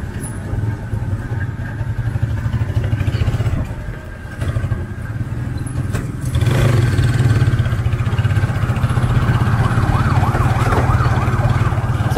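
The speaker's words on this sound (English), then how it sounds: "Pediatric ambulance there." A pediatric ambulance siren wails with a repeating up-and-down warble over steady traffic rumble in Subic, Philippines, getting louder as it draws closer.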